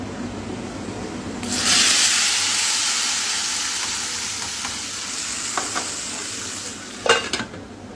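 Loud, steady sizzling of fish frying in plenty of hot oil starts abruptly and continues, with a few sharp crackles and pops near the end.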